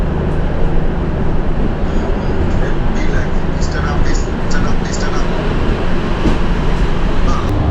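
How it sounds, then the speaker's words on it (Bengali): The 15777 New Jalpaiguri–Alipurduar Vistadome train pulls out of New Jalpaiguri station, giving a loud, steady rumble and rattle of wheels on track that continues unbroken, with faint higher clinks near the middle. "4 মিনিট দেরিতে আমাদের ট্রেন ছেড়ে দিল নিউ জলপাইগুড়ি স্টেশন থেকে"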